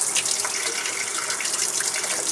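Water gushes steadily from a tap at close range, a continuous bright hissing splash with no pauses and no voices.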